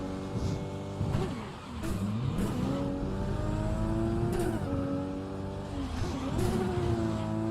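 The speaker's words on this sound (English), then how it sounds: "God, the exhaust sounds, man." A car's exhaust in the video game Cyberpunk 2077 revs and roars through repeated rising and falling engine sweeps, with a tire squeal or two, loud and close throughout.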